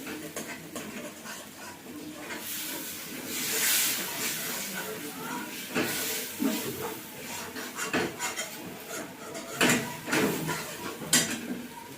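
Rohu fish in green mango paste being sautéed in a pan, with steady sizzling and hiss plus intermittent scraping clinks of a utensil against the pan, close and moderately loud.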